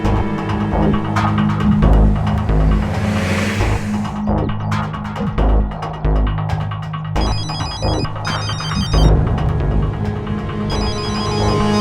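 A telephone rings in a tense Indian crime-drama scene, its electronic ringtone sounding in repeated bursts over a steady bed of dramatic background music, with no one speaking.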